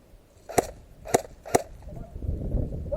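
Three sharp, snappy shots from an airsoft Beretta pistol during an outdoor airsoft game, fired close and about half a second apart, followed by faint rustling.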